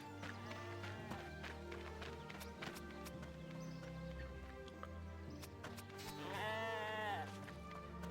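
Sheep in the RuneScape 3 video game bleating over steady game music, with a longer wavering bleat near the end and light footstep-like clatter.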